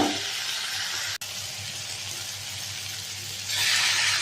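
Mukhi (taro) fries in a pan with a steady, close sizzle and hiss that runs throughout, briefly cutting out for an instant and then swelling louder near the end.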